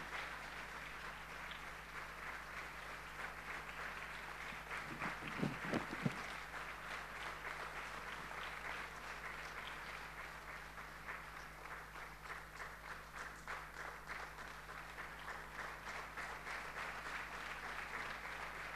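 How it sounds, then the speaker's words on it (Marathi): Sustained applause from a church congregation at a Sunday service in Pune, honouring a student who topped the ICSE exams, steady clapping throughout with a brief louder burst near the middle. "जोरदार टाळ्या."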